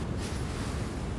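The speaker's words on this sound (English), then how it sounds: "It is very windy out here." Desert wind in the video game Journey, a steady, fairly loud rushing roar with no gaps, holding even throughout with no voices.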